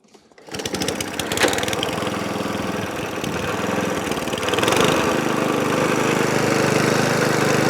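Atco Balmoral cylinder lawn mower engine starting from quiet and settling into a steady, loud, close running drone with a rough knocking rhythm, no speech.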